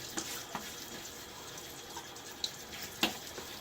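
A bathroom tap runs with cool hard water as a face is splashed before a wet shave, giving a steady hiss with a few small splashes and drips at close range, with no voices.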